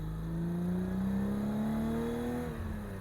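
A BMW E30 325i with a stroker engine pulls away gently, its steady engine note climbing smoothly in pitch through the gear, close and continuous with no voices.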